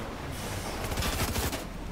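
Gunfire in the video game Fortnite, a dense, steady crackle of rapid shots lasting a couple of seconds with no break, loud and continuous.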